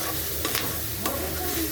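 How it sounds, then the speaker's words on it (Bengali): Garlic and ginger fry in a pan as a steady, close sizzle. Two quick stirring scrapes break it in a short burst without speech. "প্রথমে আমরা দিয়ে দিলাম রসুন, আদা। এটা একটু ভাজি"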